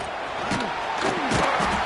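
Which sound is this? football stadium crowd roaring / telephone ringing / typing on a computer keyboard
football stadium crowd roaring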